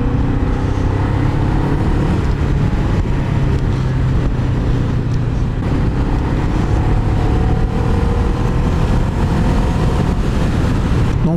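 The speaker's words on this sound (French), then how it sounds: "Dès que j'accélère, il faut vraiment se tenir au guidon parce qu'elle accélère très très bien." A motorcycle engine pulls hard under acceleration through the gears, loud and close, with rising and falling engine tones mixed into heavy wind and road rush.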